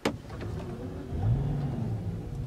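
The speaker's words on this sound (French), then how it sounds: "On démarre la voiture." A Rolls-Royce Wraith engine cranks and fires with a sharp start, then settles into a steady low rumbling idle that swells slightly, heard close from inside the car with no talking.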